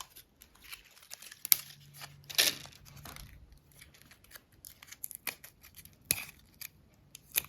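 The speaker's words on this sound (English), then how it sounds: "So I'm just using my little cutting dikes to cut that." Small cutting dikes snipping flower wire while a sola wood flower table centerpiece is assembled: a few sharp, close clicks and snips, with some crinkling and handling sounds between them and no talking.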